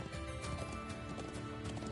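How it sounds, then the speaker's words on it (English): Hooves of a horse galloping in a fantasy role-playing video game, in a steady, continuous clip-clop rhythm over open grassy plains, close and fairly loud, with no talk over it. "can I change the horse? I kind of want the white horse."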